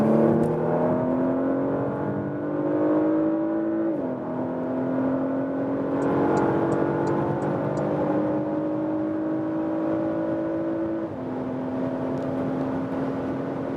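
A 2022 Porsche Macan S under full throttle gives a sustained engine drone heard from inside the cabin, its pitch climbing steadily, then briefly dropping at each gear change before rising again.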